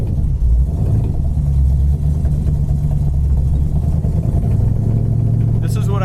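A 1968 Dodge Coronet 500 cruises down the road at about 35 mph, its engine a steady low rumble with road noise throughout and someone talking over it.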